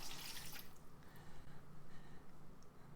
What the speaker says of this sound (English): Add warm water to a bowl.